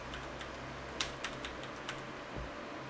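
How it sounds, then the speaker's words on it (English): Keys pressed on a computer keyboard during animation keyframe work, a few light scattered taps heard close and quiet over a steady low hum, with no talking. "full stop key, okay, on your keyboard to navigate between the keyframes"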